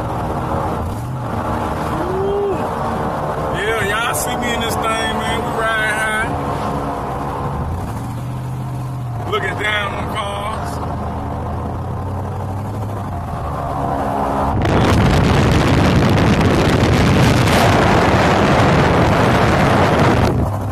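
A big vehicle's engine runs loud and close, building to a heavier, louder roar in the last several seconds as it takes more gas, with voices talking over the first part.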